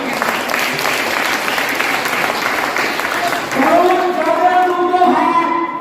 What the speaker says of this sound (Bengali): জোর করে হাত তালি দিন।